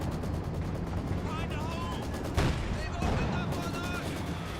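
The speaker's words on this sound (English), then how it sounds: "Mortar gets good hits there." Mortar fire in Company of Heroes 2, with dense battle noise and repeated blasts and gunfire throughout, one sharper impact midway, all under a steady wash of combat sound.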